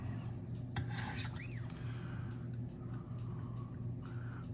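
Spyderco Shaman knife with an S90V steel blade sharpened on a Wicked Edge guided sharpener, giving steady close rasping strokes with a continuous low hum beneath.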